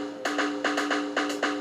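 Quiet, hissy hi-hat hits tick in a quick repeating pattern over a soft beat, with a faint ringing tone sustained underneath.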